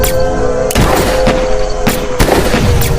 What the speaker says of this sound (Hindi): कुछ ही सेकंड में शेखर निशाना साध कर गोली चलाता है